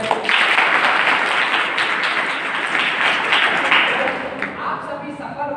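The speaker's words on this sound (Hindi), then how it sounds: "एक बार ताली बजा दें।" Students applaud at a live motivational stage program. A dense burst of hand claps from the crowd holds for about five seconds, then tapers off.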